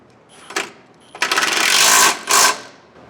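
Bolts are tightened on Toyota Tacoma rock sliders with a power tool, short buzzing bursts followed by a longer whirring run and one final burst, close and loud.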